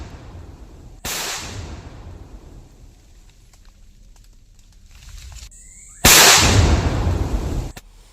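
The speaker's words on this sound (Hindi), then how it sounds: "धमाका कर इसे नष्ट कर दिया गया है" Two loud, booming blasts a few seconds apart from a police controlled explosion destroying an IED in Chhattisgarh, India, each followed by a rumbling, crackling roar that lingers before cutting off.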